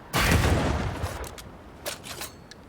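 Gunfire from shooting in the game Banishers: a loud burst of shots up front fading into a noisy tail, followed by a couple of softer, quicker shots.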